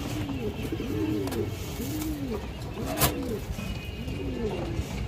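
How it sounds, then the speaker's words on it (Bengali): A male Bagha pigeon coos over and over in a soft, rolling rhythm, close by at low volume, with a faint background hiss and one brief sharp click. "পুরো লাইনের এক পেয়ার বাঘা কবুতর মাশাআল্লাহ, যে দেখেন নরের ডাক দেখেন"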